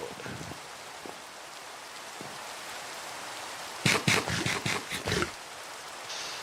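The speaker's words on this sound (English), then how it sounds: "In the rain. In the rain." Rain falls in Minecraft as a faint, even hiss that runs throughout, with a short burst of sharper clicks and thumps near the end.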